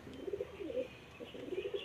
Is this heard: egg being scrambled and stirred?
no